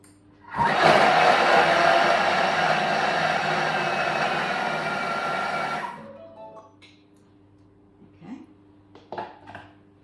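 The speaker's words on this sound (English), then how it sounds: "we're going to cut the butter through the dry ingredients. So it's 5 seconds on speed 8" A Thermomix cuts butter into flour at speed 8, giving a loud, steady high whir that runs about five seconds and then winds down. A few soft clunks follow in a quiet kitchen.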